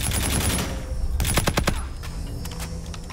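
Rapid bursts of automatic gunfire from the shooter game Call of Duty: Infinite Warfare, loud and close, with a dense rattling volley in the middle and sparser shots trailing off.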